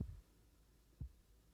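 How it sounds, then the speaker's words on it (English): Two deep, muffled heartbeat thumps about a second apart in the video game Gerda, low and soft, with a quiet hum between them and no talking. "Is that like the thumping of her heartbeat?"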